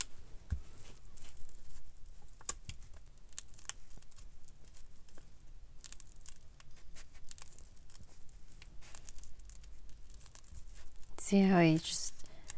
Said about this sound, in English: Just cut up a tag.